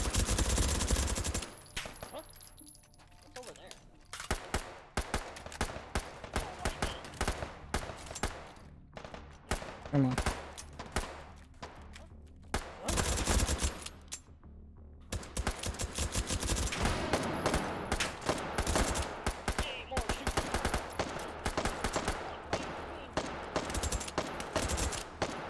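Rapid bursts of automatic gunfire and single shots from weapons in the H3VR virtual reality game, loud clattering volleys broken by short quiet gaps, with a denser sustained stretch of firing in the second half.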